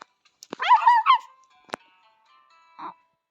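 A small dog waiting outside during a dinner outing gives a short, high whining whimper, followed by a sharp click and a brief muffled yelp, all close by with quiet gaps between.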